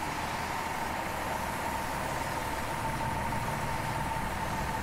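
A fire engine idles in the EmergeNYC game, a constant droning engine hum with a steady hiss, unchanging and fairly loud throughout.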